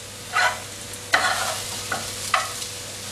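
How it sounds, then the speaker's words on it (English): Mushrooms stirred in hot extra virgin olive oil, with a spoon scraping the pan in four separate strokes over a steady low sizzle, close and fairly loud, no talking. "get the mushrooms around into that oil, to collect some more of that flavour"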